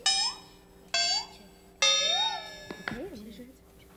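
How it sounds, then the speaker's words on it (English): A 1988 television game show buzzer signals a wrong answer with three short, bright ringing tones followed by a wobbling, falling tone. The sound is fairly faint and plays alone. "in fact, that buzzer means a no-no"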